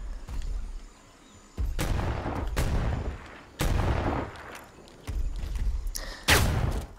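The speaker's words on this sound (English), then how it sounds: "You know, I've never shot this wrist launcher." Predator wrist launcher firing in Predator Hunting Grounds, a run of loud, sharp blasts at about 1.6, 2.5, 3.6, 5.1 and 6.3 seconds over a steady low rumble of game ambience.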